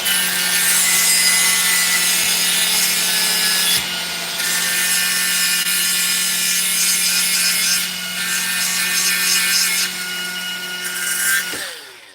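An improvised poor man's lathe grinds a part for a 727 trans-brake transmission, a loud continuous abrasive rasp over a steady motor hum, close and unbroken for several seconds before winding down at the end.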